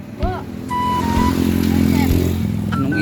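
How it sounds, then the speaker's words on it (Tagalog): Motorcycles passing outside, a loud engine drone building and holding steady as they ride by, with a person talking over the noise. "Anong ingay naman ng mga motor na yun?"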